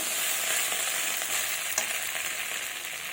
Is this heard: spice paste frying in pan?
yes